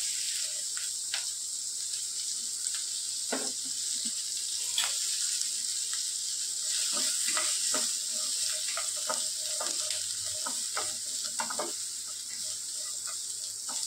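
Onion hits hot oil in a pan where paneer was just fried, giving a steady, loud sizzle throughout with scattered crackles and pops and the occasional scrape of a stirring spoon.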